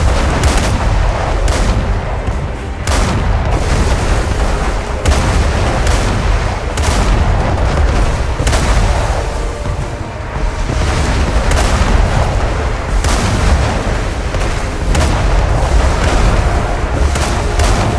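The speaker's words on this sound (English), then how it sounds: "Use the cannon's skills to attack the pirates." Ship cannons blasting at pirates during an ArcheAge naval battle, a loud steady barrage of booming shots and explosions repeating every second or so with no break.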